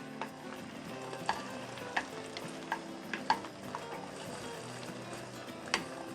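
Beaten egg with chives sizzles softly in a pan over low heat, with quiet frying hiss and intermittent scraping taps of a utensil gathering the edges inward.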